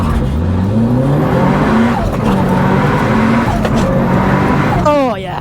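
A Mitsubishi Evo 9 launches hard on a wet road, its engine roaring loud and steady with rising revs and tire wheel spin, ending in a sharp squeal as it pulls away.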